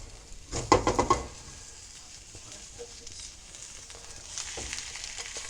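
Egg white omelette with onions flipped in a pan: a burst of clattering sizzle and pan handling in the first second, then a soft steady sizzle that continues quietly, with no talk.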